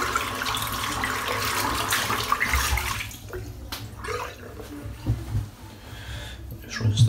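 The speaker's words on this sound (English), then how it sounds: "Just rinsing the soap out." Tap water running while shaving soap is rinsed away, a steady rushing splash that drops off after a few seconds into quieter dribbles and intermittent splashes close by.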